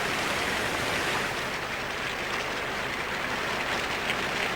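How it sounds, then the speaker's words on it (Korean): Heavy rain and strong wind from Typhoon No. 10 in Kimchaek, North Korea, a dense unbroken roar of downpour and gusts, loud and steady throughout with no voices. "지금 태풍 10호의 영향으로 김책서에서는 많은 비가 내리면서 바람의 세기는 더욱더 강해지고 있습니다."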